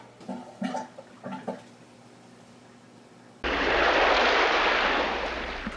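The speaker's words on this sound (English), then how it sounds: "that's done by plugging this pump back in" An aquarium pump in a home fish-tank setup is plugged back in, starting abruptly into a loud, steady rush of flowing water that holds constant after a few quiet knocks and handling sounds.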